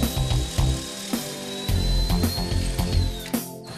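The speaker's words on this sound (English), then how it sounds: "drill a hole using the twist drill" A twist drill bores a hole through wood on a Wolfcraft Undercover Jig, a close, steady mechanical whine with repeated short surges and bursts lasting a few seconds.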